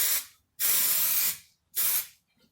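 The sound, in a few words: spraying spray adhesive glue from an aerosol tin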